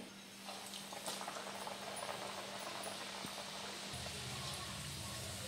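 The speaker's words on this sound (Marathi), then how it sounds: "मग आपला समोसा तर आपण ह्याला तळून घेऊ।" A stuffed samosa deep-fries in hot oil, giving a faint, steady bubbling hiss that runs on evenly without a break.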